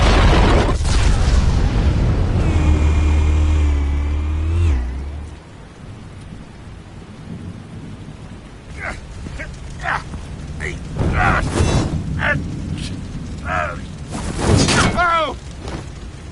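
Explosives detonate in Batman: The Enemy Within, heard as heavy, rumbling booms that build into a loud, sustained roar before settling into softer crackling debris, with scattered louder bursts later on.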